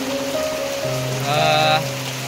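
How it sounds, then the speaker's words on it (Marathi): Steady rain patters down on a surface, a continuous hiss with a faint tonal hum running underneath and no voices. "हे बघा गावी पाऊस बघा चालूच आहे"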